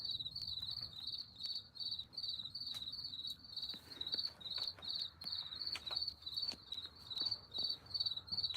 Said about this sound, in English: There might be a couple insects in here